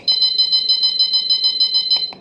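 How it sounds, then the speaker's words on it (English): A phone-style alarm clock rings in a steady, rapid beeping pattern, loud and close, repeating evenly for about two seconds before cutting off with a couple of clicks. "the alarm will set off, and it sounds like this"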